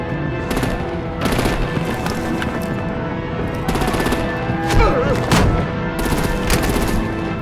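Rapid bursts of machine-gun fire and heavy artillery in Batman: The Enemy Within, loud and close, repeating in dense volleys throughout with booming impacts.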